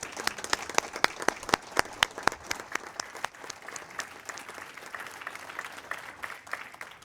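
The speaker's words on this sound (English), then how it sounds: "I'd like to give you both a round of applause in your last committee meeting." A small group applauds retirees at an MTA commuter rail committee meeting, individual claps distinct and crisp, strong at first and then settling into a steady, lighter patter.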